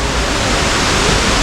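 A waterfall water feature at Dubai Mall gives off a steady, loud rush of falling water that holds at an even level throughout, with no pauses.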